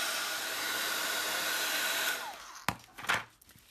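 A hair dryer blows air over a mixed media craft project, a steady loud whoosh that runs for about two seconds before cutting off, followed by a few clunks and handling noises.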